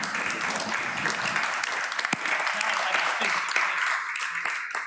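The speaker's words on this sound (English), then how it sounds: "Give it another round of applause for Sava." An audience at a networking talk gives a sustained round of applause, dense clapping that carries steadily for several seconds, moderately distant, with a few voices mixed in.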